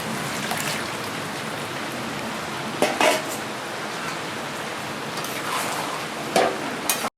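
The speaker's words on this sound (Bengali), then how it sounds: "এরপরে আমি লাউয়ের জলটুকু দিয়ে দেবো।" Bottle gourd's own water is poured into a pan of spiced gourd for lau chingri, a steady close rushing wash with a few brief utensil knocks against the pan.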